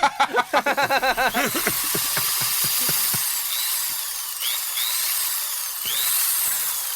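A dentist's drill sound effect played during a comedy radio show bit: a rapid, pulsing mechanical whine opens the clip, then gives way to a steady high hiss with short rising squeals, loud and close throughout.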